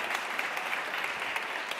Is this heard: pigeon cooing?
no